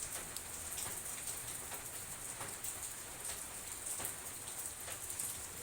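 Heavy rain pours steadily onto surfaces, a dense, even hiss with scattered close drops pattering throughout, loud and continuous with no voices.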